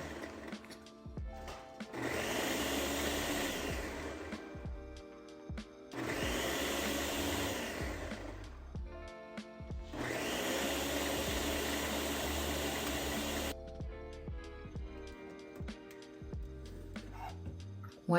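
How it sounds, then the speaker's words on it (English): A blender whirs through a yogurt and cottage cheese protein ice cream mix in three loud, sustained bursts of a few seconds each, separated by brief pauses, with quieter clinking after the last run. "Then we're gonna blend this baby up"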